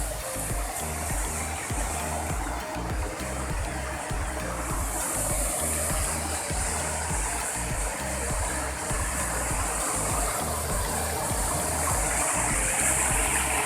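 Vasudha waterfall near Katni rushes with a constant broadband roar of falling and splashing water, steady and fairly close, with no clear voices over it.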